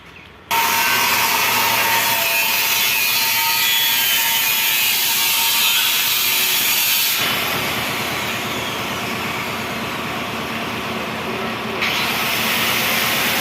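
Wooden battens used to support roof tiles are cut with a saw, producing a loud, continuous, harsh rasping grind that starts abruptly and runs steadily with slight changes in tone, no voices over it.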